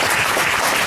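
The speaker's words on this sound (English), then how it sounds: "Round of applause." An audience at a candidate forum claps in a short, dense, loud round of applause with no one speaking over it.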